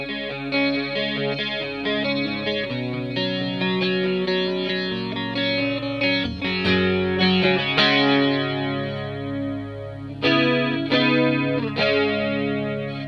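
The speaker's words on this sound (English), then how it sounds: "It also has a very cool chorus sound." Electric guitar through a Boss BF-2 flanger pedal with Monte Allums mod, set for a chorus sound, playing sustained chords and arpeggiated notes with a shimmering, swirling modulation, steady and clear with no speech.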